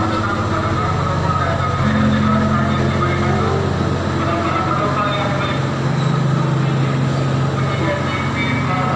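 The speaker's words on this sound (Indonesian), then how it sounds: "Dilanjut dengan kereta api" A green passenger train rumbles past steadily near Padalarang, Indonesia, with a dense, continuous roar of wheels on rails, holding a constant loudness throughout.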